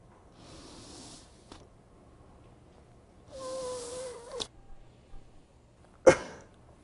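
After several breath-stacking inhalations through a mouthpiece system, a man with limited breathing ability lets out a single sharp, forceful cough, close and loud, following quieter breathy pushes and clicks.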